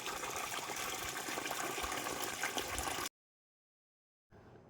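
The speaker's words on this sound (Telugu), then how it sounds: "మొక్కలకి నీళ్లు పడుతున్నాం కాబట్టి పైప్లో నీళ్ళు వస్తున్నాయి" Water gushes steadily from a hose pipe watering plants for about three seconds, then cuts off into silence before a quieter trickle resumes.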